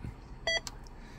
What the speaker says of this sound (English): let's remove that beep.